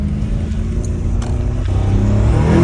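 A BMW M5 Competition engine with new downpipes idles with a deep, rough rumble, then builds as it revs up toward the end, loud and close.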